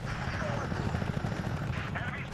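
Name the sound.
Apache attack helicopter flying and firing in Apache: Air Assault video game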